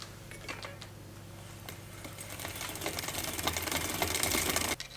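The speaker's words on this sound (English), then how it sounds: "we need to move the gears to the smallest sprocket, the highest gear." A SRAM GX Eagle 12-speed derailleur on a mountain bike being shifted to the smallest sprocket: close, steady mechanical ticking and whirring from the drivetrain that grows louder, then stops abruptly at the end.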